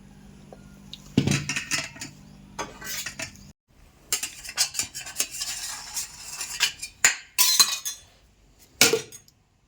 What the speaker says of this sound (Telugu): ఇప్పుడు మనం తీసి మనం కట్ చేద్దాం ముక్కలు ముక్కలుగా